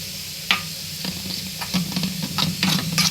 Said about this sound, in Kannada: ಇವಾಗ ಕೈ ಆಡ್ತಿದ್ದೀವಿ ಮೊಸರು ಹಾಕಿ